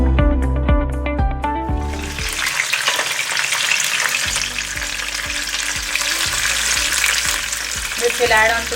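Spices for an Indian tadka hit hot oil and fry with a loud, crackling sizzle that swells and stays bright and close, over a bed of music, with a few stirring sounds near the end.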